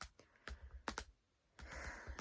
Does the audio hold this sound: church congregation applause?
no